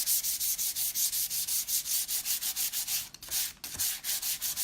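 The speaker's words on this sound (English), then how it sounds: "we're going to take some sandpaper and where is, this is a 400" Sandpaper of 400 grit rubbed back and forth over painted furniture edges to distress them, a steady close rhythm of rasping strokes with a brief pause near the end.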